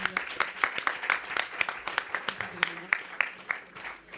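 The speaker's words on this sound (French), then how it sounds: "merci de l'applaudir" Scattered applause from a small audience at a press conference, moderately quiet with distinct individual claps and faint talk in the room.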